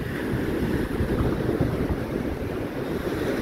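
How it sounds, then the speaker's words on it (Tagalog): Ocean waves wash up the sand on Boracay beach as a typhoon passes at high tide: a steady, full roar of surf with wind buffeting the microphone, continuous and fairly loud with no voices. "Inaakyat ng alon, binabalik sa normal yung buhangin."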